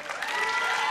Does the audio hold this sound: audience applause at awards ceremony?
yes